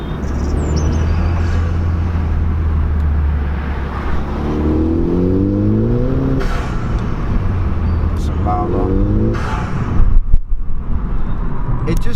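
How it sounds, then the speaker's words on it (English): A Ford ST with a turbocharged engine accelerates from inside the cabin, with a steady low drone, rising revs and a brief burst of turbo noise near the end. The engine note stays loud throughout. "when you hear that noise, it makes you know that you have a turbo"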